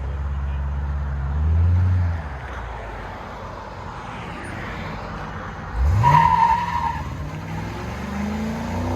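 A straight-piped 2021 Dodge Charger R/T with a 5.7L HEMI V8, fitted with MagnaFlow mufflers, pulls away: a steady engine drone swells into a loud rev with tire noise around the midpoint, then fades as it drives off.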